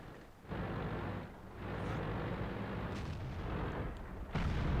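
Tank cannon fire and battle noise in the World of Tanks video game, heavy booming blasts rolling through a dense, continuous low rumble, with sharp bursts near the start and close to the end.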